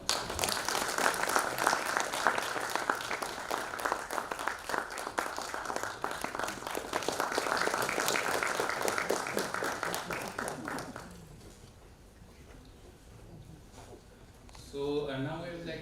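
An audience at a technology and sustainability conference applauds a professor being welcomed onstage, dense clapping for about eleven seconds that then fades to quiet room tone before a voice starts speaking.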